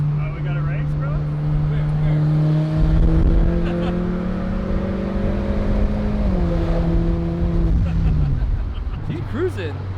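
Acura Integra built to over 730 horsepower in a street race, its engine droning steadily with rising harmonics and a shift-like dip near the end, loud and close, with people talking over it.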